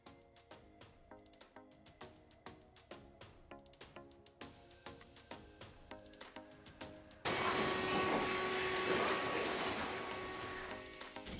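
Clear coat goes onto a restored car headlight. A string of soft rhythmic clicks gives way to a sudden loud, continuous spray hiss that runs to the end, close by with no talk.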